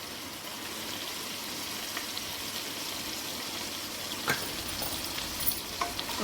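Potato, brinjal and meal maker curry is stirred in a pan after salt and turmeric go in, giving a steady soft sizzle with a few light clinks and scrapes near the end.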